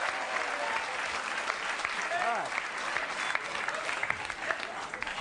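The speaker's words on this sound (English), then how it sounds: "Why are we clapping for this shit?" A live comedy-show audience claps steadily and densely throughout, with a few voices and laughter mixed into the applause.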